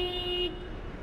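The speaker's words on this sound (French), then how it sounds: "Ah, c'est l'heure de pointe, hein. Ça klaxonne." A car horn sounds steadily in Warsaw rush-hour traffic, a sustained tone over low road rumble that cuts off halfway through, leaving only the traffic noise.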